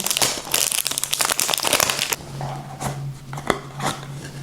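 A perfume package is unpacked close up, with dense crinkling and rustling of wrapping for a couple of seconds, then quieter handling, scattered crackles and a sharp tap.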